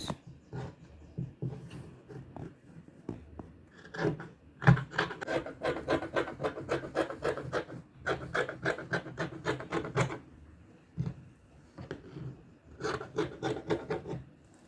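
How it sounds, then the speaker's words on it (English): Fabric being cut out for a straight gown, with bursts of rapid rhythmic scissor snips and rustling cloth, close and fairly loud, broken by short pauses. "We have to cut it out. So we are cutting it out."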